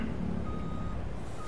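Reversing beeps from a truck backing up in Farming Simulator 22, a steady tone repeating over a continuous low engine rumble, moderately loud and without talk.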